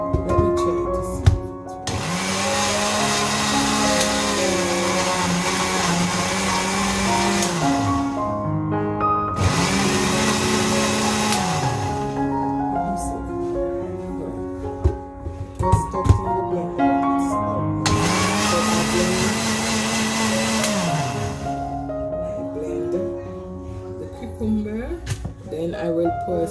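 Blender partially blending juice ingredients in three long motor bursts with whining pitch changes as the load shifts, separated by short pauses, with rattling and bumps in between.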